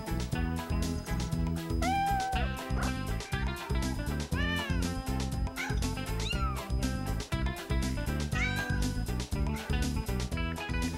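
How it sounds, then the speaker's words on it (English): Cats meow repeatedly over loud, continuous background music, the rising meows standing out clearly above the busy backing. "Look, there's one of the mother cats."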